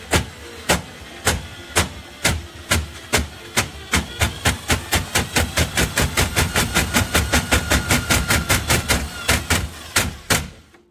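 A drain snake head knocks against the mud-coated walls of a kitchen drain pipe in a steady series of sharp thuds, slow at first then speeding into a quick regular rhythm, over a rumbling motor drone.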